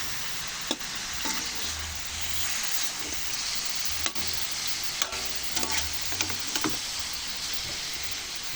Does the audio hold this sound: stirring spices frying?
yes